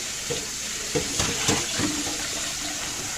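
Food rinsed under a hot kitchen tap, a steady broadband rush of running water with a few splashy bumps as items pass through the stream; no talking.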